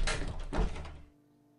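A heavy door in the Gabriel Knight 3 adventure game slides open with a broad rumbling whoosh that fades out after about a second, leaving a faint hum.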